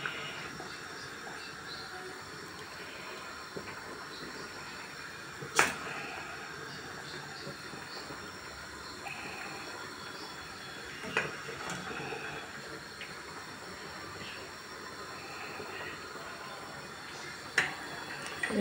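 A pot of water boils for cooking öşmeli dough, giving a soft steady bubbling hiss with occasional sharp clinks of utensils against cookware.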